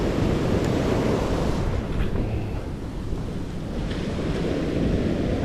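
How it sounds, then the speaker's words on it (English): Ocean waves wash against the shore of a harbor in a continuous broad roar, heavily buffeted by wind against the microphone, with no talking. "Tide's gonna come up a bit, so these waves will kind of die down after a little while."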